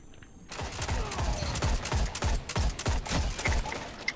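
Rapid bursts of automatic gunfire from a weapon in the video game Destiny 2, loud and close, repeating in a steady volley of sharp shots after a brief quiet start.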